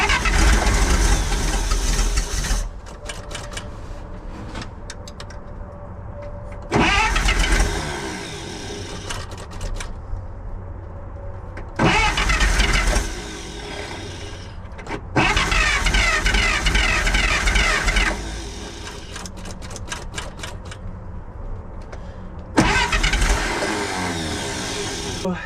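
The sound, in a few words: 1948 Pontiac straight eight engine cranking and starting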